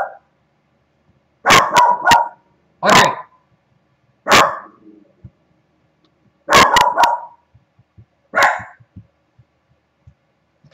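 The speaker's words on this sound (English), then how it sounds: "Apologize for the dog." A dog barks repeatedly indoors, loud and close, in sharp single and doubled barks spaced a second or two apart, with near silence between them and a brief spoken word at the start.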